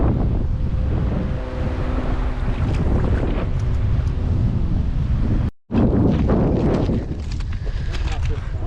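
Strong wind buffets the microphone on open water near an oyster bed, with boat engine hum and brief tonal motor drones underneath, a voice talking over it and a short dropout midway.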